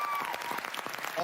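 A studio audience at a Walking Dead finale after-show applauds the cast, giving a fairly quiet, brief burst of scattered clapping with a faint tonal squeal over it.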